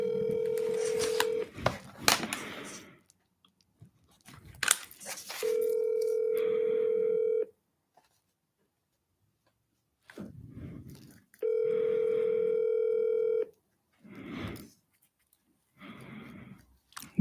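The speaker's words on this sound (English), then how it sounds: "Let's give him a call." Telephone call being placed: bursts of touch-tone dialing beeps and steady dial tones, then repeated ringback tones separated by pauses, with faint background noises between them.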